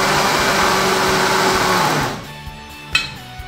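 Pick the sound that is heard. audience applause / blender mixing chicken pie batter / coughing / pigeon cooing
blender mixing chicken pie batter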